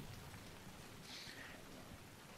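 Rain falls in a pine forest in The Last of Us Part 2, a soft, even hiss of drops that stays faint and continuous, with no voices.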